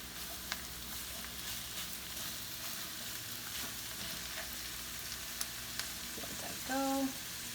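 Cheesesteak meat sizzles with onions in a pan over medium heat, a faint steady frying hiss throughout with a brief clink of utensils near the end.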